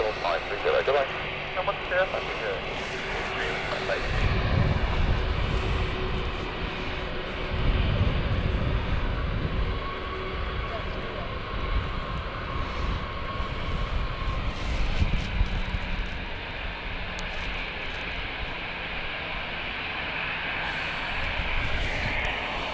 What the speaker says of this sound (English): I think I can hear the engine spooling up.